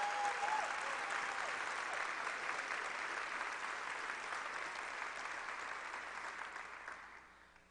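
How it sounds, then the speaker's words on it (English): An audience at a Barren County Schools opening day program in Kentucky gives sustained applause that starts full and steady, then gradually thins and fades toward the end. "Is that something to clap about?"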